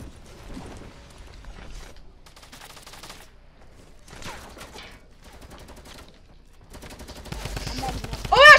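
Drum gun fire in a duo squads shooter match, with scattered bursts of rapid gunfire at moderate distance building to a louder volley at the end, while voices talk faintly underneath.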